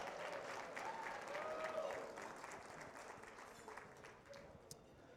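Audience applause for a group of young performers at an awards dinner; steady, dense clapping from a crowd fills the whole stretch at moderate level, with faint voices mixed in.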